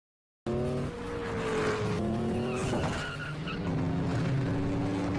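Racing cars scream through a street race, engines whining up and down through gear changes while tires squeal and skid, loud and close throughout after a brief silent start.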